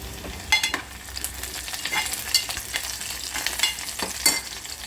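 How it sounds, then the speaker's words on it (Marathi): Steady crackling sizzle of curry leaves frying in hot oil with fried onions for sambar, with sharp pops and spatters scattered throughout and light stirring scrapes; no talking. "कांदा भाजून झाले त्यामध्ये आपण आता कढीपत्ता टाकूया"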